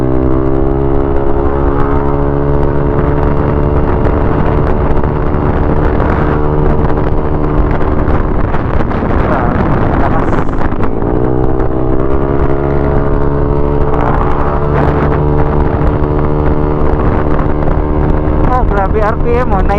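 A motorcycle engine revs hard near 9,000 RPM, a loud, steady high-pitched whine that wavers and climbs repeatedly during an endurance ride on a hilly road, with wind rush and occasional talk over it.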